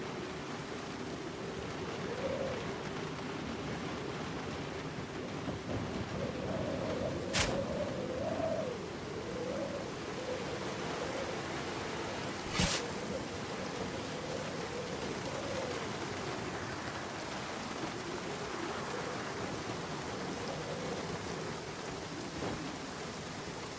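Steady, heavy rain falls in Project Zomboid's Kentucky setting, a constant hiss throughout, with two sharp thunder cracks and faint bird calls in the background.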